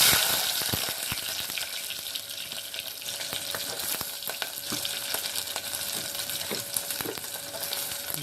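Chopped onion and green chillies frying in hot oil, a close, continuous crackling sizzle with occasional sharp pops and spoon scrapes, loudest at the start as the ingredients hit the pan, then settling into a steady hiss.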